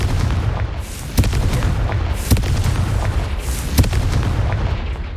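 Confringo blasting spell detonating in Hogwarts Legacy, a steady rumbling roar punctuated by three sharp booming blasts spaced about a second apart.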